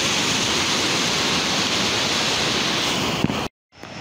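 Hòa Bình waterfall on the Ray River, between Đồng Nai and Bà Rịa, roars in a loud, unbroken wash of falling water, then cuts off abruptly near the end.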